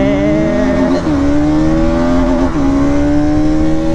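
A Yamaha R15 V4 motorcycle at full throttle on a highway gives a loud, sustained engine drone whose pitch climbs, dips briefly at gear changes and climbs again, close up with heavy wind noise.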